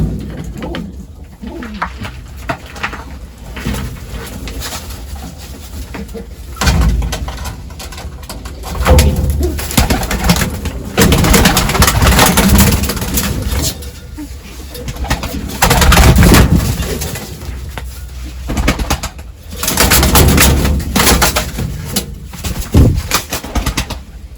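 Tumbler pigeons coo steadily near their coop, with bursts of wing flapping and rustling that swell and fade across the clip, close and fairly loud.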